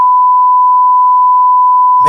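A loud, steady censor bleep, one pure tone held for about two seconds and then cut off abruptly as a voice begins.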